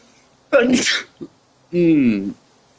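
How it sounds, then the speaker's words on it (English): A person sneezes close up in two loud bursts. The first is sharp and airy, followed by a brief catch, and the second is a longer voiced sneeze, all in an otherwise quiet room. "I sneezed to begin the live stream, and I have sneezed to end it"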